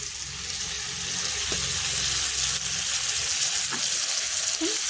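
Soaked chilli powder water poured into a hot pan for a light fish curry, a loud steady sizzle and bubbling frying with a few faint utensil clicks, no voices.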